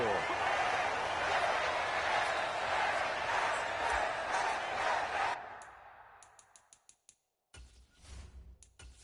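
Crowd noise in the Madden 24 football video game, a broad, loud stadium roar of cheering that fades away abruptly partway through, leaving short choppy bursts of sound.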